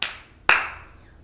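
Two sharp hand claps, close and crisp, about half a second apart, each followed by a brief ringing decay.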